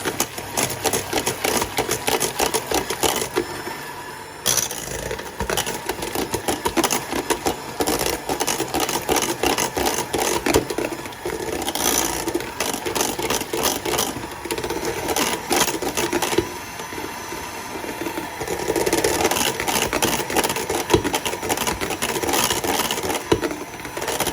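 A hand mixer whirs steadily through keto peanut butter cheesecake batter for chocolate chip cheesecake bars, a loud continuous motor drone with the beaters rattling in the bowl and a brief dip in the sound partway through.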